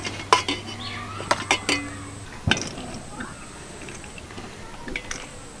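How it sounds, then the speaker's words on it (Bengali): A spoon scoops cooked vegetable biryani rice into a pot of soybean gravy, giving a few sharp metallic clinks and scrapes against the pot, with quiet gaps between them. "বিরিয়ানির ভাতটা যে রেডি করে রেখেছিলাম সেটা আমি চামচে করে এইভাবে নেব এর মধ্যে দিয়ে দেব"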